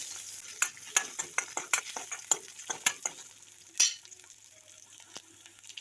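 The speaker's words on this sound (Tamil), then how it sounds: "நல்லா தட்டி வச்ச பூண்டு ஒரு 5-6 பூண்டு இதோட சேர்த்துக்கலாம். சேர்த்துட்டு நல்லா வதக்கிக்கலாம்." Crushed garlic sautéing in a pan for drumstick stem rasam, with sharp intermittent scraping and stirring clicks over a soft sizzle, one louder clatter midway, then quieter frying.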